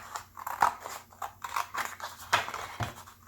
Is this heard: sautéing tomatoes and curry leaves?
no